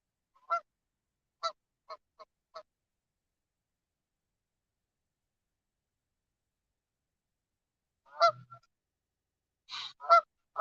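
Ducks on a lake give several short, separate honking calls, a quick run near the start and a few more bursts toward the end, with quiet stretches between them and no talk.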